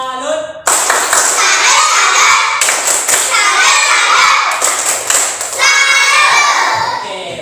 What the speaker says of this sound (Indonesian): kita berikan tepuk salut untuk kita semua ya